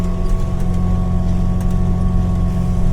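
A 4210 tractor's engine drones loud and steady while it pulls a disc leveling residue-covered ground, a constant low rumble with no breaks throughout.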